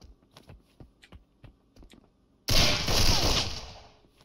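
Gunfire in the video game Marauders: a run of sharp, fairly distant single shots ticking at an uneven pace, then a sudden loud sustained burst of automatic fire that slowly fades.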